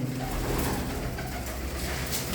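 Low, soft cooing of a closed-tail female pigeon repeats against steady wind-like noise, fairly close and continuous for the whole stretch.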